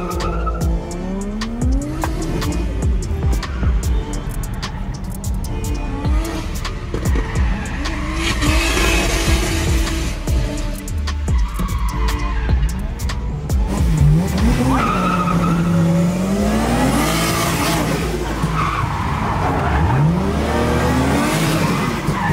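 A Nissan 350Z drift car skids and revs on a street. Loud tire squeals and rising engine surges follow one another continuously across the whole stretch, close and sustained.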